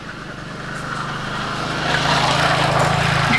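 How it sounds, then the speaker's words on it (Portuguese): A motorcycle passes nearby outdoors, its engine drone growing louder and closer over a few seconds. "Deixa eu passar a moto que eu tenho medo."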